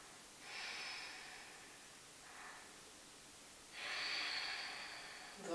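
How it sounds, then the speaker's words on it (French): Slow breathing while a yoga pose is held: two long airy exhales, one short breath between them, heard close and soft against a quiet room. "Encore 2 respirations."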